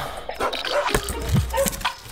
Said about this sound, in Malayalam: അടുത്ത വീട്ടിലെ പട്ടികൾക്ക് ഉറക്കമില്ലേ?